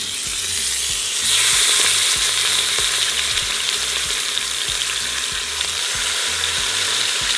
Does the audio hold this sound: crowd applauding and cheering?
no